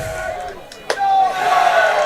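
Home crowd at a Lawrence high school baseball game in the bottom of the seventh with the bases loaded, rising into loud, sustained cheering and shouting after a brief lull, with a sharp burst near the middle.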